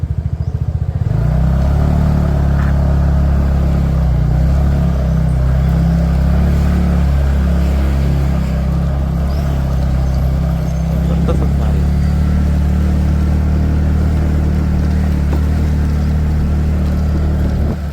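A motorbike engine drones steadily and close throughout as the rider heads in through a temple entry gate at Gopalpur near Pandharpur, with people talking over the constant rumble.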